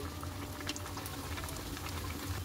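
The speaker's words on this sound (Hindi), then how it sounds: "अब इसके अंदर हम पेटीज डालेंगे, आहिस्ता से डालेंगे, हाथ जल ना जाए। और इन्हें अच्छे से फ्राई करेंगे" Aloo patties fry in hot oil in a kadai, giving a soft, continuous bubbling sizzle with scattered small crackles. The sound is fairly faint and close, and no voice is heard.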